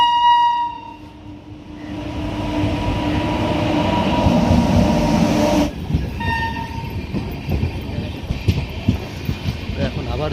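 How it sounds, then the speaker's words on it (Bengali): Capital Express passenger train pulling into a station bound for Kamakhya, with a loud horn blast, a steady rumble of rolling wagons and clanking wheels close by, and voices in the background. "এই যে বর্তমানে ক্যাপিটাল ঢুকছে।"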